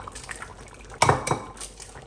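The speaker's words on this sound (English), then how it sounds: "So we're going to beat 2 eggs." A utensil knocks against a bowl while two eggs are beaten for hot and sour soup, making a few sharp clinks and wet taps around the middle of an otherwise quiet stretch.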